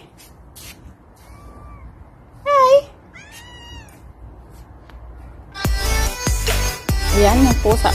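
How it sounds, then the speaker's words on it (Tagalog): A newly adopted pet cat gives a few short, clear meows at moderate distance, with a brief greeting voice and louder rustling, handling noise toward the end. "Ayan, may pusa kong bagong alaga."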